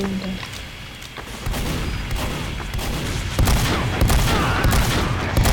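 A sentry turret in Team Fortress 2 fires continuous rapid shots, loud and relentless, with layered gunfire and explosions from the game throughout.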